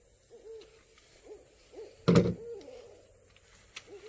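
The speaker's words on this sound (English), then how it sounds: "Scaring the owls, Jeff." Owls hooting at a gun show in Tampa, a series of soft, repeated mid-pitched hoots around a sudden loud thump, close and alone without talking.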